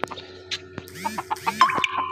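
A large pet hen clucks close by in a series of short, throaty calls with squeaky higher notes mixed in, over faint background hum.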